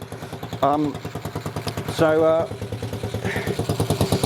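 A small engine with a rotating four-speed gearbox runs steadily, its pulsing idle loud and close, while a person talks briefly over it.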